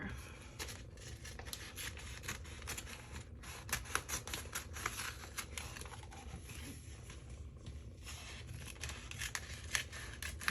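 Scissors freehand cutting a vinyl stencil sheet, a quiet, close run of quick crisp snips and rustling plastic in an uneven rhythm over a soft background hum.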